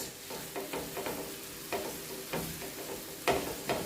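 Onion and garlic fry in olive oil for penne alla vodka, a soft, low sizzle under repeated scraping strokes of a spoon stirring the pan, fairly quiet and without speech.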